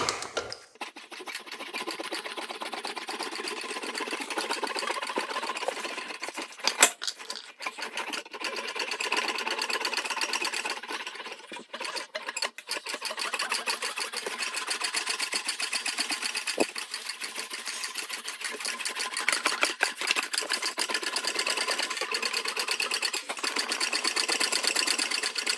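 English wheel rolling a sheet metal panel for a custom truck box on a 1940 Ford-inspired build, giving a steady, continuous mechanical whirring and rumble that runs for about twenty-five seconds, with occasional sharper clicks.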